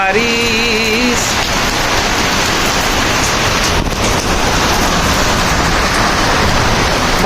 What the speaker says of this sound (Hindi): ये है झमाझम बारिश।